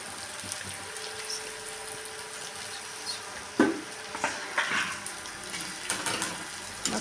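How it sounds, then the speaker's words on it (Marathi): Onion, tomato and spices being stirred together in a cooking pan for a curry, with soft scraping and light sizzling under a steady background hiss, a few louder spoon scrapes near the end. "सगळं एकत्र असं एकजीव मिक्स करून घ्यायचं आहे."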